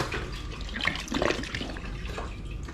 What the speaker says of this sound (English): I'm simply going to add 2 litres of spring water into the apple puree to loosen it up a little